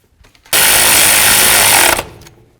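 Power tool tightening a bolt on a 2007-or-later Toyota Tundra 4WD during starter replacement, a single loud, steady burst of about a second and a half, close by, with no talk.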